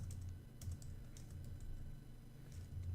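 Keys tapped on a computer keyboard while entering a search term; soft, close, irregular clicks in a quick cluster, quiet and without speech over it.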